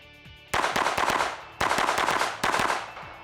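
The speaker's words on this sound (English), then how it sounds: "I tell you, Jerry, if I blink, I miss you shooting." A Smith & Wesson SW22 Victory .22 pistol fires three quick strings of rapid shots, each a tight burst of sharp cracks, close and loud, with short pauses between strings.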